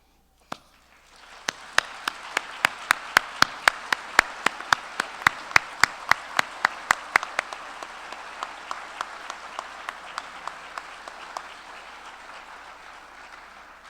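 A standing audience at a pharmacy college hooding ceremony gives sustained applause for faculty and staff, a broad crowd wash punctuated by one nearby clapper's sharp, rhythmic claps that stop before the applause fades.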